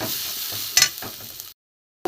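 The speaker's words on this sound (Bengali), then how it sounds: "এর সাথে আমি মশলাটা একটু কষে নেব।" Spice masala fries on low gas in a pan, a gentle steady sizzle with a couple of stirring scrapes before it cuts off into silence.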